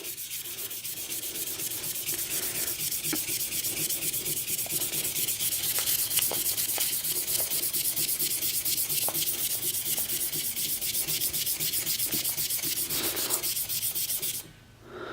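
Sandpaper scrubs rapidly back and forth by hand against stainless steel, a steady rasping hiss with quick rhythmic strokes, close up, ending abruptly.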